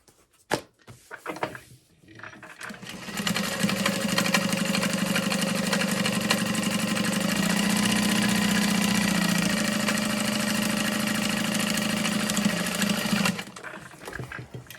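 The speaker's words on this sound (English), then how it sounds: "we can baste this bottom pocket piece all together" Sewing machine basting a vinyl pocket piece together, a fast, even whirring stitch running continuously for about ten seconds after a few handling clicks, then stopping.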